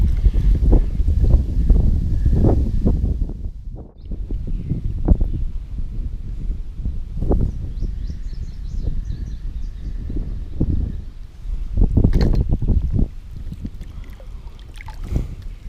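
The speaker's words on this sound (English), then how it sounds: "The wind has been something to battle today, though." Gusty wind buffeting a microphone on an Iowa fishing boat, loud irregular low-pitched blasts and rumbles with quieter lulls between.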